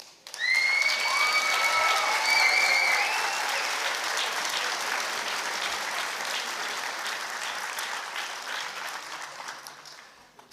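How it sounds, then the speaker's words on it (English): Graduation ceremony audience applauding parents, partners, family and friends, a loud sustained wash of clapping from a large crowd that swells quickly, holds steady for several seconds and fades out, with a few whistles early on. "So now you can give yourselves that applause you practiced earlier."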